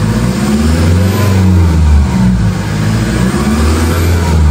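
A Toyota Fortuner fitted with an HKS catback exhaust revs up close by, delivering a loud, continuous deep engine rumble that rises and falls through the throttle blips with no talking.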